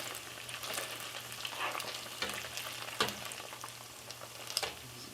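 Beef tripe frying in its own rendered oil in a pot, a steady close sizzle and crackle punctuated by scraping stirs and occasional clinks, with no one talking.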